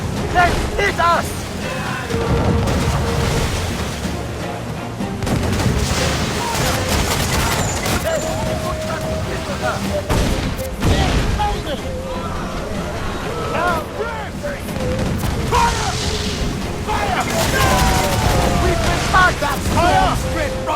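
Booming ship cannon volleys from a naval battle in Assassin's Creed Freedom Cry, heavy repeated blasts amid crew shouting and battle babble, loud and continuous with voices over the firing.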